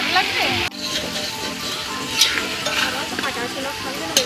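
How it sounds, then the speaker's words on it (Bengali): Potatoes frying with chopped ripe tomatoes in a pan at a picnic cookout give a continuous hiss and sizzle, with a sharp scrape of stirring and clinks of the utensil, while people talk nearby. "এবার এর মধ্যে দিয়ে দিলাম কুচিয়ে নেওয়া পাকা টমেটো দিয়ে আলুগুলোকে ভালো করে ফ্রাই করতে থাকবো"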